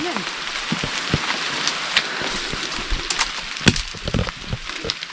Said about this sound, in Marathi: पाऊस माझ्यावर पडला हो